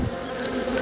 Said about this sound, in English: look at all the bees inside in that box still